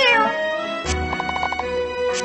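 A cartoonish cat meows once in a long, falling cry within the Japanese mobile game Wiz and the Black Cat, followed by a bright chiming game jingle and another short mew.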